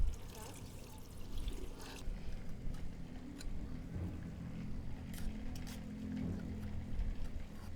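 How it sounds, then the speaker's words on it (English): Water poured into a pot of Emirati majboos rice makes a steady, close, moderately loud splashing stream that lasts throughout. "Okay, now you can add water."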